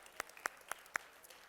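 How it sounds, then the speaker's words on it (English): A handful of separate, crisp hand claps from a resistance-band drills workshop group, four quick claps spaced evenly and heard fairly faintly, with no talking. "Give yourselves a round of applause."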